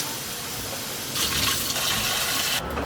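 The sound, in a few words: pouring a cup of water for sourdough bagel dough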